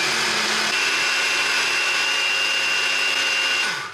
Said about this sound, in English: So we got a new blender, I made myself a nice green smoothie.